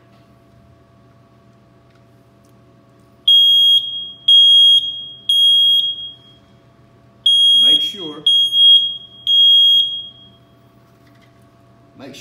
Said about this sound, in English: by the sound of a smoke detector